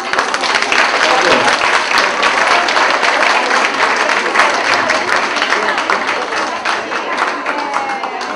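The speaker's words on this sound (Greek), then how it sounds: "Και ένα χειροκρότημα." Audience applauding at a book presentation in a historic café garden, dense sustained clapping filling the whole stretch at steady loudness, with a few voices faintly mixed into the crowd.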